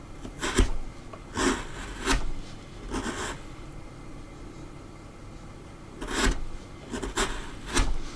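A blade shaves wood in a few separate strokes, each a short rasping scrape with quiet pauses between, close and clear with no talking.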